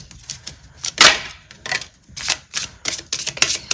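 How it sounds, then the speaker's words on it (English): Rapid crisp clicks and riffling snaps of tarot cards being shuffled, in short irregular bursts, close up with no voices. "We are going to live shuffle."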